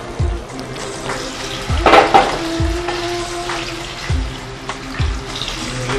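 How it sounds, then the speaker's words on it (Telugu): Paneer sizzles and fries in a pan for paneer manchurian, a steady crackle with several sharp stirring scrapes and clatters rising above it. "ఫస్ట్ పన్నీర్ని ఇక్కడ వేయిస్తున్నారు"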